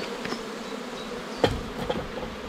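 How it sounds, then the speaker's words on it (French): Honeybees hum steadily at an opened, healthy production beehive that has been smoked, a close, continuous buzz with a couple of individual bees passing nearer. "Donc là on est sur une ruche qui produit et qui est en très bonne santé."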